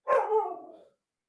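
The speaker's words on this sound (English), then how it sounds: "I apologize for the dog." A dog gives a single loud bark at close range indoors, a sharp onset trailing into a short harsh tail, followed by silence.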